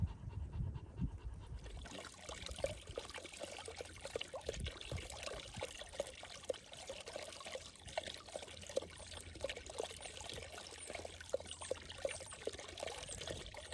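A thirsty dog pants steadily at a water source beside a trail shelter on the Appalachian Trail, its breathing close and rhythmic over a constant trickle of running water.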